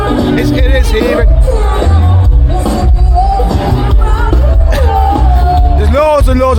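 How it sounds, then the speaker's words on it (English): A dense, noisy night crowd on Fremont Street in downtown Las Vegas fills the space with loud babble, shouts and whoops close by, voices overlapping continuously with music-like tones in the background. "you get past all this crowd because it is heaving"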